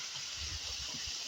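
River water flowing where friends are bathing, a continuous faint rushing hiss with a low burbling underneath, no talk.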